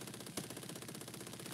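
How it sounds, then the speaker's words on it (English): Biplane gunner's machine gun firing in a war flight video game, a steady rapid rattle of shots over a dense engine and battle roar. "Gunner's getting some good hits in."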